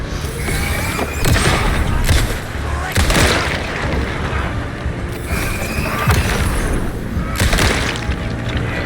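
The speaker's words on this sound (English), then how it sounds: "Time to take out the shotgun for the big guy." Shotgun blasts and combat in the video game Alan Wake II during a fight with a big enemy, loud booming bursts a few seconds apart over dense, rumbling game noise.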